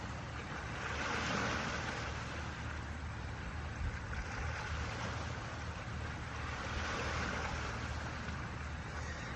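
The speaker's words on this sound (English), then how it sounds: "You may hear the sound of waves." Steady, rushing ocean surf with a continuous roar, gently swelling and fading, with wind noise across the microphone and no voices.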